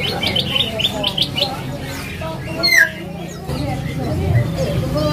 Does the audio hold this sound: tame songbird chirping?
yes